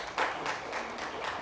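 An audience claps through a short burst of applause at a University of Chicago talk, fairly faint and continuous, with no voices on top.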